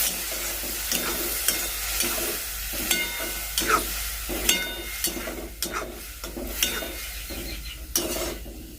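A methi seed and curd curry cooking in a pan, stirred with a utensil in a quick, regular rhythm of close scraping strokes over a steady sizzle.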